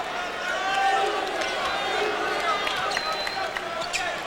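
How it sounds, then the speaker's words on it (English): Crowd noise fills a college basketball arena as Bradley fans stand and cheer during a 1997 game against Villanova, a steady roar with scattered shouts and whistles, while people talk over it. "Crowd is on their feet."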